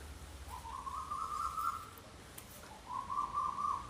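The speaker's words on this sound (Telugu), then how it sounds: "అసలు బర్డ్ సౌండ్స్, ఈ రెయిన్ అయితే ఆసమ్ ఇక్కడ." Two long, clear whistled bird calls ring out one after another over a soft, steady hiss of outdoor rain, fairly faint and at a moderate distance.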